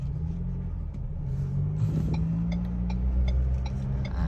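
A 2019 Ford Ranger Wildtrak pickup with a 2.0-litre engine and automatic gearbox drives along, a steady low engine rumble and road hum heard from inside the cab, with no voices.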